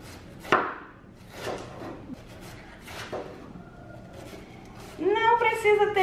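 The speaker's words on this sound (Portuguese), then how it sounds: "Eu vou cortar o meu repolho" A knife slices through cabbage on a board, a few separate chopping thuds spaced apart at close range, with a voice speaking near the end.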